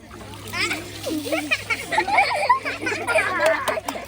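Water splashes and sloshes repeatedly as people dunk themselves, with children's excited voices and chatter mixed throughout.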